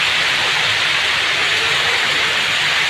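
Steady, dense hiss of heavy rain, loud and unbroken throughout with no voices.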